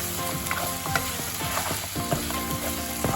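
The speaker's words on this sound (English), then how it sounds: "Give it a little stir." A tablespoon of salt being stirred into a sizzling king prawn bhuna curry with reduced onions in a pan, with steady frying sizzle and scattered clicking scrapes of the spoon against the pan, close and continuous.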